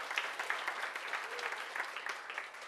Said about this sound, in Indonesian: Tepuk tangannya dahsyat.